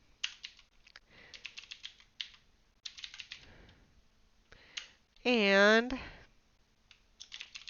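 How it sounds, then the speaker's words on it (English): Irregular bursts of clicking keystrokes on a computer keyboard, close and fairly quiet, with a short spoken word breaking in partway through. "I would type in the size of my border."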